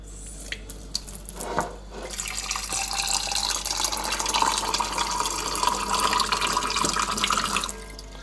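Cool tap water runs steadily into a container for mixing ground seaweed and crushed crustacean shells, a continuous close splashing stream after a few brief drips and knocks at the start.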